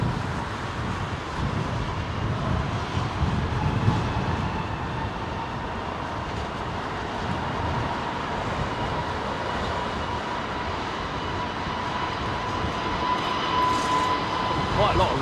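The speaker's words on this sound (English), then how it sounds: "JetBlue 321NX on its way out" A JetBlue Airbus A321neo departs Heathrow on a windy day, its engines giving a continuous broad roar that stays loud and even, mixed with gusty wind noise and no voices.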